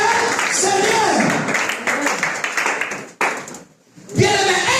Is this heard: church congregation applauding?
yes